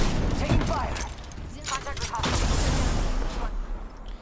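Gunfire in a video game match rattles in bursts and scattered shots mixed with booms and mechanical clatter, fairly loud and close, while a player talks over part of it.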